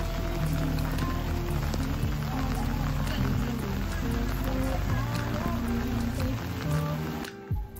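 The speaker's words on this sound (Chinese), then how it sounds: "虽然这场雨为宏村增添了一抹神秘的氛围感" Steady rain falling over Hongcun, an old village in Anhui near Huangshan, a dense continuous hiss of drops on surfaces that fills the whole stretch and cuts off abruptly near the end.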